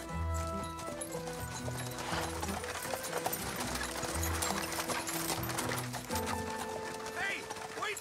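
Horse hooves clip-clop in a steady trotting rhythm from a small garrison horse in an animated Zorro series, running under a busy mix of dialogue, music and effects.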